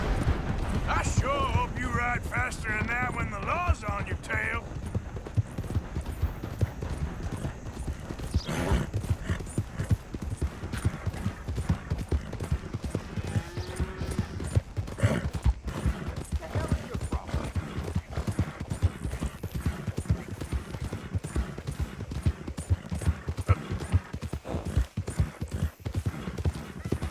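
Horse hooves gallop in the Red Dead Redemption 2 video game, a fast, steady clip-clop rhythm running throughout, with occasional whinnies and game characters talking over it.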